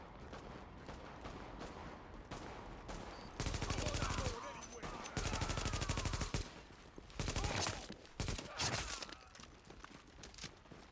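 Bursts of automatic gunfire in The Division video game come in loud, dense volleys between quieter stretches, over a constant background of game ambience.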